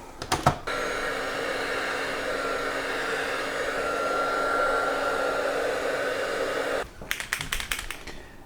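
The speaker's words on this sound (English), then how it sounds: "Let's apply some heat shrink." A heat gun blows with a steady, loud whooshing roar for several seconds while shrinking heat shrink tubing onto a wire harness for an OLED screen upgrade, with brief clicks and handling noises at the start and end.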